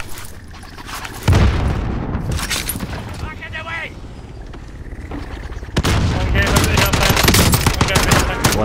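Automatic gunfire and explosions from a Warzone duos match with a FAL and grenade launchers, loud dense bursts of shots and booms across the whole stretch, with players talking over the combat.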